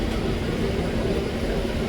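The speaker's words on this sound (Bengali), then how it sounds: "দমদম জাংশন ছাড়ার পর আমাদের ট্রেন এখন মেন লাইনে ঢুকছে" Steady low rumble of a Kolkata local train running onto the main line after leaving Dum Dum Junction, a continuous droning roll with no breaks over the short stretch.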